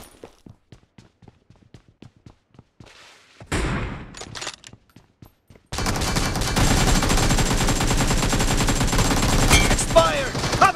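Rapid gunfire from the battle royale game BGMI: a string of sharp isolated shots, then a sudden dense burst of continuous automatic fire lasting several seconds, loud and close, with faint footstep-like taps early on.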